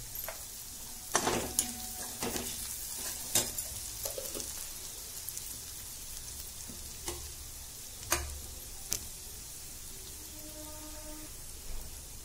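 Asafoetida and turmeric sizzling in hot oil for masala okra, a soft continuous crackle with scattered sharp pops and a few clinks of a utensil against the pan.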